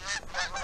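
Geese honking as they come in to land during an early season goose hunt in South Dakota, a few loud, close overlapping honks in quick succession.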